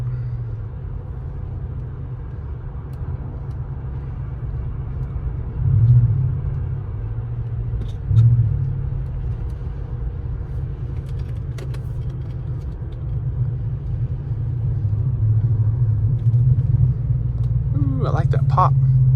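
A 2012 Ford F-150 pickup with an ARH catback exhaust idles with a deep steady rumble close by, with a couple of short blips at about six and eight seconds and a louder throttle rise near the end.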